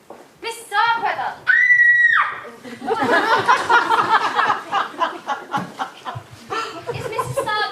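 A woman's scream rings out amid a frantic scene in a murder mystery drama, followed by excited overlapping voices, one loud sustained high cry standing out near the start before agitated talking continues.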